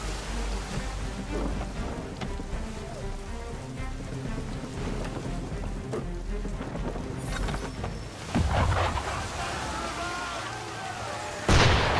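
Ship cannon fire in Assassin's Creed 3, a few booming blasts over steady rain-like noise, the strongest near the end, with faint voices in the background.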